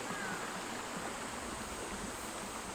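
Mountain stream in the Naewonsa valley of Hobuk-myeon, Yangsan, South Gyeongnam, rushing with a steady broadband roar, constant and close with no voices.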